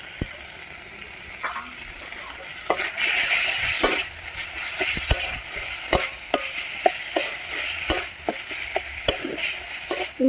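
Ground cumin and coriander paste stir-fried in a pan with salt, a spoon scraping and knocking in frequent sharp strokes over a low continuous sizzle, close up with no voices.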